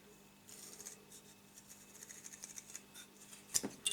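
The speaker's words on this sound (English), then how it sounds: "These are really nice scissors." Scissors make precise cuts in a thermal insulating seal for a Stirling engine: faint, close snips and rubbing that build into a sharper clip near the end, with no talk.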